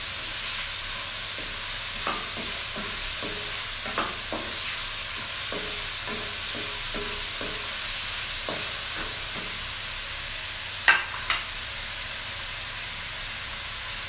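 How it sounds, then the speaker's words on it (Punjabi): Finely chopped carrots tossed and stirred into a pan of fried chicken, with a steady soft sizzle under a series of light scraping stirs and one sharper clatter near the end. "ਉਹਨਾਂ ਫਿਰ ਅੰਦਰ ਕੈਰਟ ਪਾਵਾਂਗੇ।"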